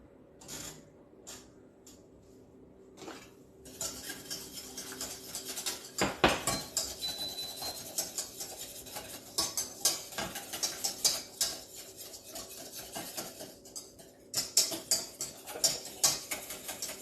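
A utensil stirs financier batter with coconut and pineapple in a bowl, giving rapid, irregular clicking and scraping strokes that start sparse and become continuous and close, with no talking.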